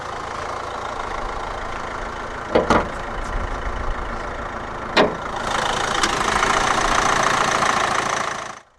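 A 2014 Vauxhall Mokka 1.7 CDTi 16-valve turbo diesel inline-four idles with a steady, gravelly clatter, broken by a few sharp clicks and knocks, then the running note rises and thickens briefly before cutting off abruptly.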